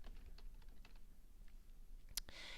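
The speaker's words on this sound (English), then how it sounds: "you want to type in your name" A computer keyboard is typed on at a steady run of light, quick clicks, close and fairly quiet, with a louder keystroke burst near the end.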